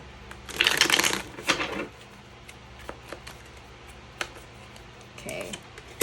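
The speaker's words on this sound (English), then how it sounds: "let's get to shuffling." A deck of tarot cards is shuffled by hand, giving a loud riffling burst followed by a second shorter shuffle, then scattered light taps and card handling.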